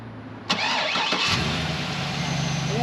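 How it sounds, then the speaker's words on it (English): A 2005 Chevrolet SSR roadster with a 390 hp 6.0L LS2 V8 cranks briefly, then fires up with a sharp catch and settles into a steady, rumbling idle close by. "So we'll fire this motor up, show you some lights working."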